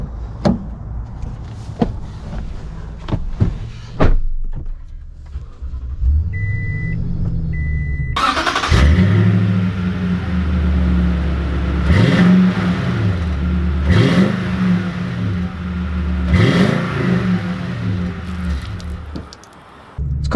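A 2020 Toyota Tundra Platinum pickup truck is heard up close: sharp clicks and a door first, then the engine starts and revs in several rising swells as it pulls away and drives.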